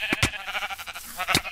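Sheep bleating in Minecraft, a wavering, trembling bleat running through the short moment over a few sharp clicks of gameplay, fairly close and clear.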